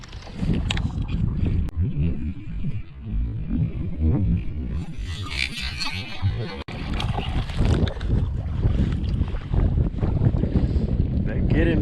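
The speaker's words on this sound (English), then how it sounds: "The wind's getting lighter and they're getting bigger." Steady wind rushes across a lake and buffets the microphone during bass fishing from an Ascend 10T kayak, a loud continuous roar with gusty swells and water sloshing against the hull.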